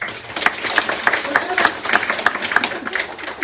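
A library audience claps in a lively, uneven patter of hands, fairly close, with people talking over the clapping.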